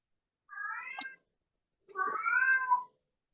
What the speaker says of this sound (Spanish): estoy escuchando un gatito